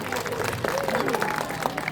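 Audience applause for a sea lion after her ball-balancing trick, a steady dense patter of clapping from a crowd with murmuring voices mixed in throughout.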